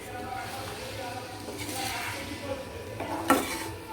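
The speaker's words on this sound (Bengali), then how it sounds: "এখানে মাংস সিদ্ধর যে জলটা রয়েছে ওটা অল্প অল্প করে দেবো আর কষাবো" Meat is stirred and sautéed in a pan while its boiling stock is added a little at a time, giving soft scraping and a low sizzle under continuous talk, with a sharper spoon clink near the end.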